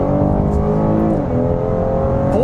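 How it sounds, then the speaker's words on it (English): Cadillac XT6 Sport SUV with a 3.6 liter V6 accelerating on a back road, a steady, loud engine drone with rising harmonic tones that climb and shift through a gear change, no talking. "that V6 sounds good too. It really sings"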